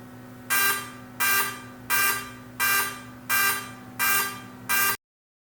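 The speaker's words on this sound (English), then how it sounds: "you can also hit Start Flashing and Beeping." A DJI Mavic Mini drone's locator alarm blares seven loud, harsh buzzing beeps in a steady rhythm about every two-thirds of a second, close by, then cuts off abruptly to silence.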